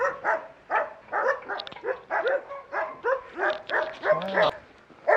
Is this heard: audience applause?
no